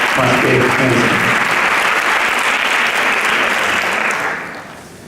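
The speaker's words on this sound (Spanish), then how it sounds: "Lo recibimos con un aplauso, creo que más que merecido." Strong audience applause welcoming Doctor Fernández at the CEMUN 2014 opening ceremony, full and even clapping with a brief voice at the start, fading off during the final second.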